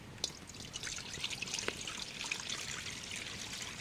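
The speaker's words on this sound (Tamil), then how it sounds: "தண்ணி கொஞ்சம் விட்டுக்கலாம்." Water trickles steadily into a pot while ragi is being cooked, a soft, close, continuous pour with a few small splashes and no talk.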